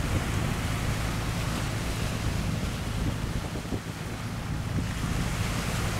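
Wind and waves roar around a high-speed tourist passenger boat caught at sea in a storm, with a dense, constant rush of surf and buffeting wind close to the microphone.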